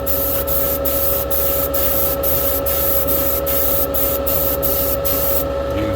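A spray gun lays a coat of paint onto a race car part: a continuous loud hiss broken by short regular gaps as the trigger is released and pressed again, close by, with no talking.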